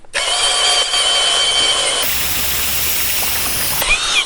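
A Procraft Industrial CD-20A cordless drill in second speed bores with a 32 mm bit, a loud close motor whine that shifts into rougher grinding strain partway through, with no talking.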